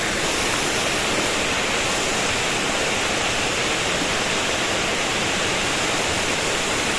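A waterfall roars as a steady, dense broadband rush of falling water, loud and close, continuous and unchanging throughout with no voices.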